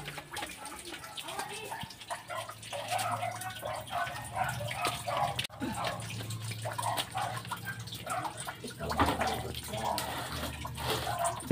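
Water poured over someone during a bath, with splashing and dripping into a basin or tub; people talk over the intermittent pours and sloshing.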